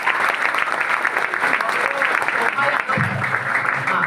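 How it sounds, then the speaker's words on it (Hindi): Audience applause for a host at a career seminar, a dense, loud clapping wash that runs the whole time with voices mixed in underneath. "पहले तो नीलेश सर को एक ताली जोरदार"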